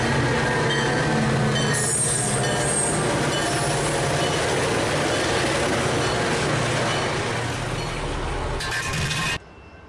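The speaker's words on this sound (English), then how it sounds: "Then we had a Metra outbound come in, with one of the old scheme F40PHs pulling it." A Metra outbound commuter train hauled by an older-scheme EMD F40PH locomotive rolls past close by, with continuous loud rumble, metallic clinks and squealing wheels throughout before the sound thins abruptly near the end.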